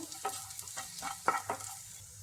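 Chopped garlic and curry leaves fry in hot oil with onions, a soft sizzle broken by several stirring scrapes and spatula knocks in an uneven rhythm.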